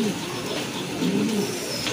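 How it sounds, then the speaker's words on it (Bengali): A Lahori pigeon pair coos softly in a pigeon market, low murmuring coos repeating a few times close by over a background of faint chatter and ambient noise. "এই যে দেখেন খুবই অ্যাক্টিভ আর ফ্রেশ কবুতর।"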